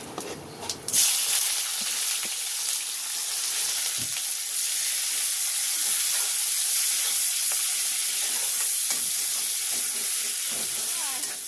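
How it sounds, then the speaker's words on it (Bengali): Chopped onion goes into a pan of hot oil already holding cumin and dried red chilli, giving a sudden loud burst of sizzle that settles into a steady, even hiss of frying for the rest of the time, with no voices. "কেটে রাখা পেঁয়াজটা দিয়ে দিচ্ছি।"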